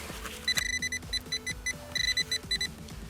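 A metal detector beeps over a buried target in the ground on a December detecting outing, giving a quick run of short warbling beeps in an uneven rhythm, moderately loud with no voices.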